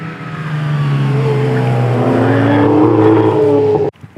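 A Hyundai time attack race car roars past at a championship final, its engine loud and steady with rising, sweeping tones before cutting off abruptly near the end.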